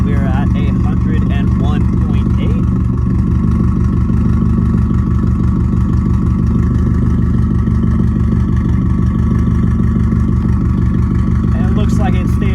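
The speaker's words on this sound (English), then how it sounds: "it stays right about 90 while idling" A loud, rumbling Subaru STI engine with catless straight-piped exhaust idles steadily with a deep, throbbing exhaust pulse that holds constant throughout, close by.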